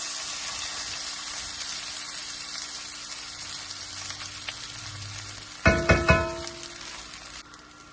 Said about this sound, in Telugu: ఇందాక నేను ఉడకపెట్టి పెట్టుకున్న పులిహోర రైస్ వేస్తున్నాను.